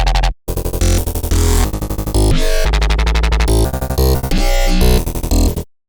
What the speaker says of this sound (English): This complex little mess is basically just 4 different bass patches I made in Serum